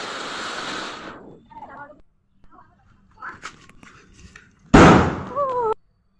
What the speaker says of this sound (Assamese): ফটকা মাৰিব হেনো।